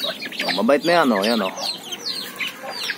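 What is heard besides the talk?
chicken clucking, native labuyo chickens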